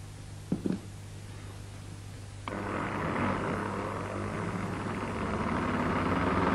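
A sophisticated gyroscope model spins up, starting with a couple of faint clicks before a sudden steady whirring rush sets in and holds, growing slightly louder as it runs.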